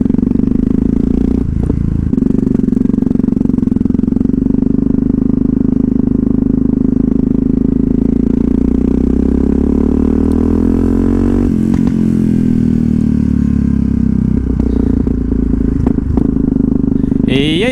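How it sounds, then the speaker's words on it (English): Yamaha MT-03 motorcycle engine running loud and close throughout while riding, with a sharp pop near the middle and revving rises and falls, plus a voice briefly over it. "This bike backfires like crazy"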